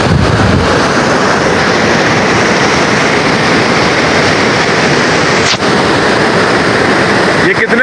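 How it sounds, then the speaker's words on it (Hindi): A river in the Kaghan Valley rushes loudly and steadily, a dense broadband roar filling the whole stretch with no pauses, close and unbroken. "दरिया के पानी की आवाज़ देखिए कितनी मतलब शोर बर्पा कर रही है"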